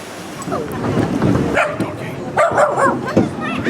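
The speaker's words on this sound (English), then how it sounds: "Another little dog." A small dog yips and barks in short, sharp bursts, close by, mixed with people talking in the background at a heritage railway station.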